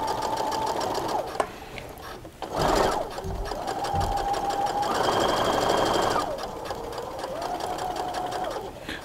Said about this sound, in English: I'm gonna hit the reverse button, do a few back stitches, and now we're gonna head forward.